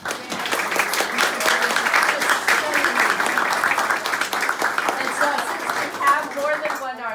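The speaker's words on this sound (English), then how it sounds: "we'll clap to all the artists." Audience applause for the artists at a gallery's mask group exhibition talk, steady dense clapping from a roomful of people sustained for several seconds, moderately loud and close.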